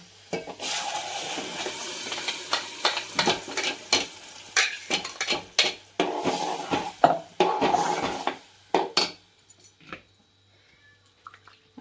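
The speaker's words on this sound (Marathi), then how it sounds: "आता आपण वाटण घालून घेऊया" Malvani fish masala paste for a jitada fish curry hits a hot pan and sizzles in loud, uneven bursts, with stirring and utensil clatter close by, then fades to near silence.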